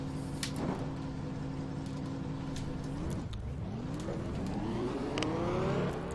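Race car engines in the NASCAR Racing 2003 video game at North Wilkesboro drone steadily. The pitch dips and then climbs again as the cars accelerate. The engine noise is continuous and fills the whole clip.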